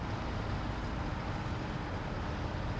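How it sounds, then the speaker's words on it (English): Low, steady rumble of a Fleet Star truck engine idling in the SnowRunner off-road driving game, a continuous dense drone with no breaks and no voices. "Let's turn the engine on the Fleet Star,"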